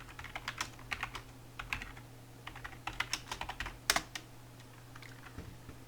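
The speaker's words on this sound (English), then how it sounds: "Let's just type something in chat." Rapid, uneven keystrokes on a computer keyboard, crisp and close, arrive in short bursts over a steady low hum, ending with a louder clack.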